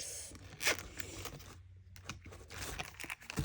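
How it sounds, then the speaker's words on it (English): A short run of rustling, scraping sounds, like a zipper being pulled back and forth, close by with a brief quiet gap in the middle. "Her zipper works."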